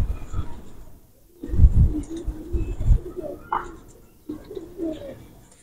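Pigeons of the Chanda Khani and Bullet breeds coo in soft, low bursts, several close calls with short pauses between them and faint background rustle.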